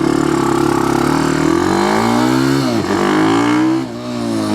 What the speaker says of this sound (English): a race prepped mini bike like this that is just got a berserk amount of power